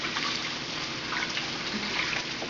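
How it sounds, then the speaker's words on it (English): Tap water running over hands during washing, a steady soft splashing stream that continues evenly without a break, fairly close and moderately quiet. "Let me wash my hands real quick."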